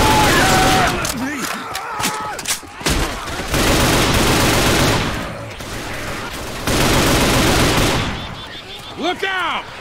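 Rapid bursts of gunfire from Left 4 Dead 2, loud and dense through most of the stretch, broken by brief pauses, with players shouting over the shooting.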